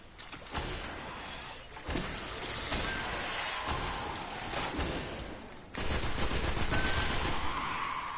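Sniper rifle gunfire in a video game, with several sharp shots spread over a few seconds against a dense, noisy game soundscape and a louder burst near the end.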